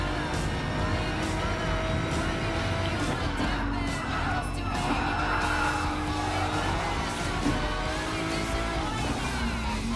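A Group 3 race car in the Gran Turismo Sport Gr.3 Cup event holds a steady, loud engine drone at speed, with tires squealing and skidding through corners and no break in the sound.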